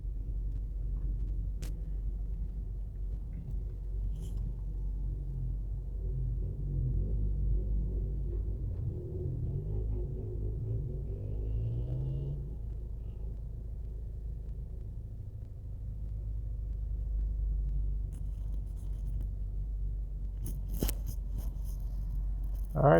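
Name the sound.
road traffic and taxis at a plaza in Jamaica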